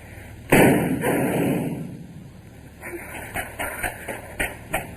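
A radio drama gunshot sound effect lands as one loud sharp report and fades into a rumbling tail. A few lighter thumps and taps follow close by.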